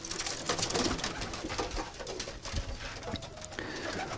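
Pigeons of a tumbler breed cooing close by in a loft with nesting birds, several soft overlapping coos and rustles filling a few seconds with no speech.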